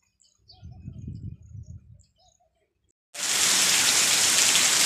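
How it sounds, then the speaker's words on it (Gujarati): A few bird chirps sound faintly in a quiet village, then heavy rain suddenly starts and pours down as a loud, dense, steady hiss that continues to the end. "જુઓ આટલો વરસાદ"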